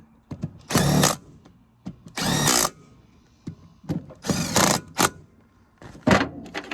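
Power tool driving bolts back into a 5.3 engine during reassembly, several short whirring bursts separated by quiet pauses and small metallic clicks, close and fairly loud.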